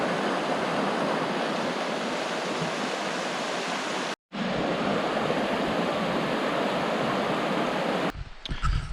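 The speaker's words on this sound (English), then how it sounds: "There's a creek behind back there." A creek flows behind a campsite on a Virginia Creeper Trail trip, making a steady, full rushing of water. It cuts out briefly midway and ends in a few rough bumps.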